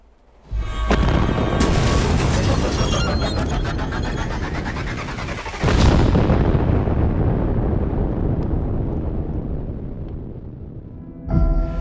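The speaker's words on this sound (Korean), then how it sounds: "일단 가연성 가스가 점화되면서 폭발한 걸로 판단이 들었어요" Flammable gas ignites in a sudden loud blast that rolls into a long rumbling roar. A second powerful burst hits midway and another at the very end, with no speech.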